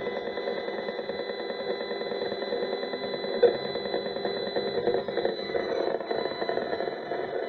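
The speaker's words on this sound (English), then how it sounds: "so you can hear the acoustic sound of the radiation that is coming right now" AM10 acoustimeter audio output of radiation readings: a steady, dense electronic buzzing hum with a constant tonal whine, loud and unbroken throughout, with a single brief click partway through.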